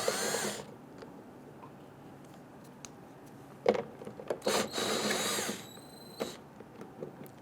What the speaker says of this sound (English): we're going to go ahead and loosen and remove these